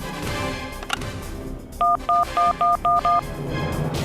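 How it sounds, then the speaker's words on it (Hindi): A phone number is keyed on a telephone as six quick, evenly spaced DTMF tones over a background of soft room noise and faint voices. "तुरंत एयरभास मोबाइल कंपनी में फोन करो"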